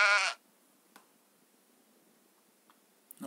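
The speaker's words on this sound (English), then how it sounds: "You wanna shoot this sheep?" A single short sheep bleat from the archery video game Blokstok Bow Rescue sounds loudly at the start, followed by near silence broken only by a few faint ticks and clicks.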